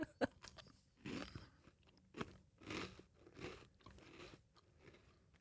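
Someone bites into a crunchy, airy cookie compared against a vanilla wafer, giving several close crunching bites and chews spaced about a second apart, with no talk over them.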